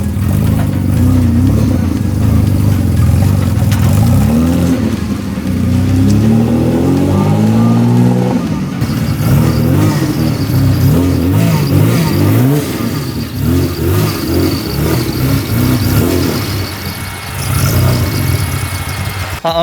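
A T18 car engine running about 4 psi of boost revs hard and loud, rising and falling through several pulls with a gravelly mid-pitched roar, up close and continuous.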